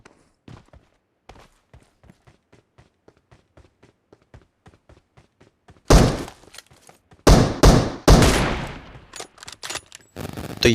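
Sniper and other gunshots in a shooter video game: a string of faint, evenly spaced taps gives way to several loud, sharp cracks with ringing tails toward the end, with no talk over them.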